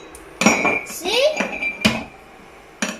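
A lid goes onto a pot of salted water boiling eggs, giving a few sharp metallic clanks and clinks spread across a few seconds, close and fairly loud.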